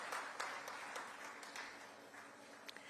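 Applause from the audience at the CAVINKARE Ability Awards ceremony in Chennai, a fairly faint, steady wash of clapping heard from a distance with a few sharper individual claps standing out.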